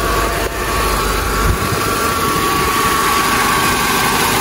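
A Mercedes 500E W124 with a 326 hp V8 idles steadily, a close, even engine hum that holds throughout with no speech.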